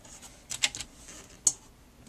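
Paper cutter slicing a sheet of card to 4 inches wide for a Halloween card, giving a few faint, sharp clicks and one crisp slice, close and quiet with no talk.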